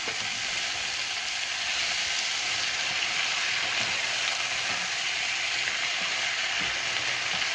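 Cactus pieces sizzle steadily in a pan as they warm through for vegan cactus and black bean tacos, a dense continuous frying hiss with no voices, close and even throughout.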